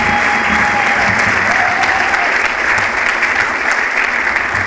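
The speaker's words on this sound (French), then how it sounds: "Applaudissez pour vous-même." Audience applause at a youth league gathering, a dense steady clatter of many hands clapping continuously and fairly loud throughout, with no pauses.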